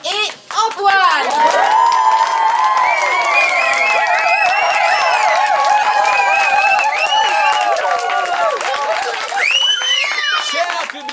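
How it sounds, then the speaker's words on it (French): An improv theatre crowd cheers and claps for two players, with whoops, shouts and loud voices layered over continuous applause that stays loud and close throughout. "Je vous demande de faire un tonnerre d'applaudissements pour les joueurs Yanis et Antoine."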